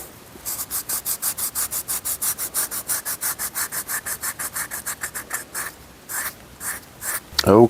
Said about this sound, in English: I'm going to sand these edges and burnish them.